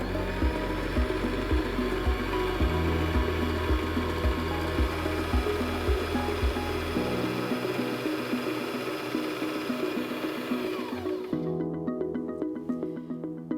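A Singer M3400 sewing machine's motor whirs steadily while winding thread onto a bobbin, with a rhythmic low thumping in the first half. The whir then drops away and leaves a quieter tail.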